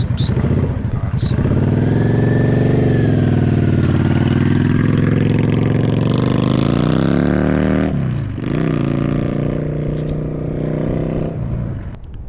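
Yamaha V Star 650 Custom motorcycle rolling slowly past, its engine a steady low rumble that swells and eases throughout, loud and close, with a brief shift in tone partway through.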